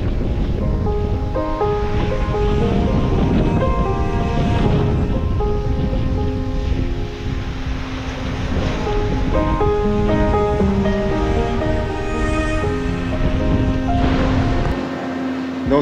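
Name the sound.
seaside waves and wind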